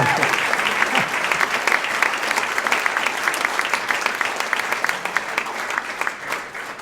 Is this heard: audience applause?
yes